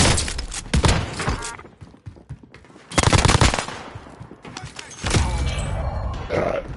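Automatic gunfire from Call of Duty Warzone bursts out loudly in three heavy volleys separated by short lulls, close and punchy with thumping impacts.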